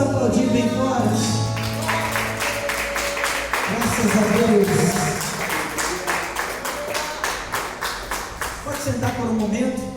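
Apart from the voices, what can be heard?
church congregation applauding loudly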